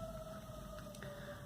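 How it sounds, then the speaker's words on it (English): A faint, steady siren wail sounds in the distance downtown against low background hum. "Can you hear those sirens?"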